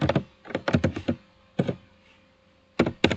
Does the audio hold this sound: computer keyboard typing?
yes